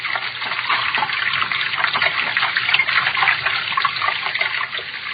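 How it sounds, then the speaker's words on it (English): Loud, steady rushing of running water, continuous and unbroken like a tap pouring hard, with no voices. "Water over my head. Filthy water."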